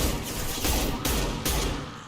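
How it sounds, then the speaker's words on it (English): A concussive shot fired in a video game, heard as a few heavy, close thumping bursts in quick succession with a broad, punchy impact. "Firing concussive shot."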